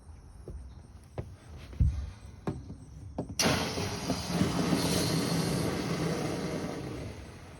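A Bauer 2300psi electric pressure washer motor starts after a few scattered clicks and knocks, then runs steadily with a continuous broadband whir and hiss at close range.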